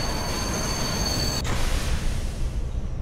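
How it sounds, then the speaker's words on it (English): Train rumble and rattling wheels in the horror game Layers of Fear: Inheritance, a loud steady broadband roar with a faint high squeal early on, continuing alone for about three seconds. "Cool, I'm a train now."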